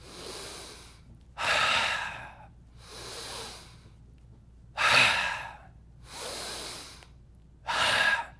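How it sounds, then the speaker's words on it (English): Six loud, deep breaths in a steady rhythm, each a broadband rush of air roughly a second long with short pauses between, taken by a group bouncing in place during a productivity class; no talking. "we'll have them bounce in place and close their eyes and take 10 deep breaths"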